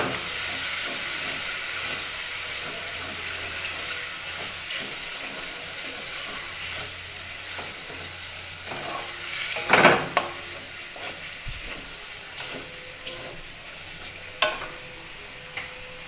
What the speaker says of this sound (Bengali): ওভেনের আঁচটা মিডিয়ামে রেখে এটাকে কষাবো।